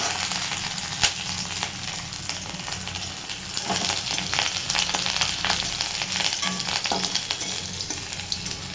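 Garlic fries in hot oil in a kadai, giving a loud, steady, close sizzle that runs throughout, with a few sharp clicks and scrapes from stirring.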